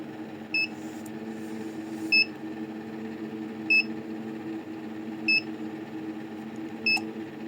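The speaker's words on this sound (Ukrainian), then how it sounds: "Це він пікає, обозначаючи, що він набирає температуру" A pair of short electronic beeps from an egg incubator heating up repeats about every one and a half seconds, five times, over a steady low mechanical hum.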